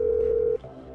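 A phone call tone in the Grand Theft Auto V video game: a single steady electronic tone held for about half a second, cut off abruptly and followed by a quieter fainter tone.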